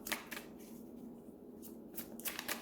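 Tarot cards shuffled and drawn by hand, quick close papery riffles and flicks in short bursts with soft slides between them, fairly quiet and with no voices.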